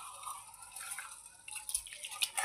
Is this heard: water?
yes